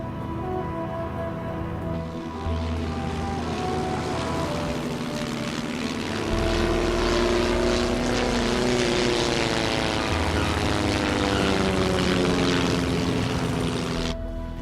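Steady propeller airplane engine drone arriving at Fair Isle, rising louder partway through and holding close and continuous for the rest, with no talk over it.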